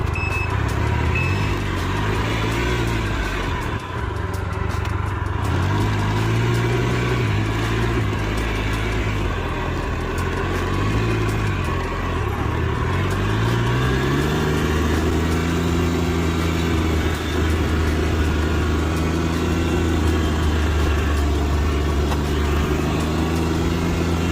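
A Can-Am Ryker three-wheeled motorcycle engine runs continuously while riding, its pitch rising and falling as it revs and shifts, close and steady throughout.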